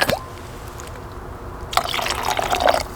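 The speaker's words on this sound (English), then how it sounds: "I'm probably gonna need to add a little water." Water is poured into a camp pot of vegetable beef stew, giving a brief splash at the start and then a sustained gurgling fill, close and fairly loud, with no talking.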